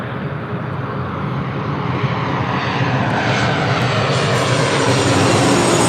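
An Alaska Airlines Boeing 737-800 arriving at LAX from Portland produces a loud, steady jet roar that builds slightly in intensity and stays dense and unbroken throughout.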